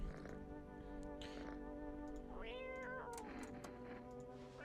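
A cat meows in the video game I Am Not Human, a few soft, drawn-out mews, the clearest one rising and falling in the middle, heard faintly and alone.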